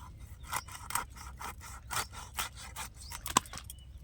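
Knife cutting belly pieces from a freshly killed silver carp, a series of short rhythmic scraping, sawing strokes close by with one sharper crunch near the end.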